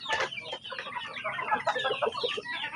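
A flock of farm chickens clucks in quick overlapping calls, close and lively, with no one talking.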